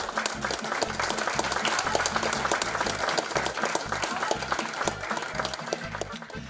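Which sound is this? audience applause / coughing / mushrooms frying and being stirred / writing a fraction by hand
audience applause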